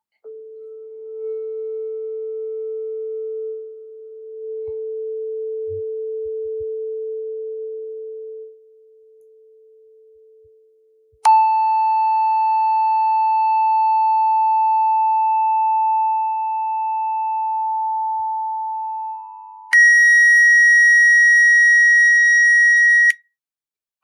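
Pure sine tones in sequence: a steady low tone held for several seconds with one brief dip, a short gap, then a higher steady tone with faint overtones, followed by a bright, still higher tone that cuts off abruptly.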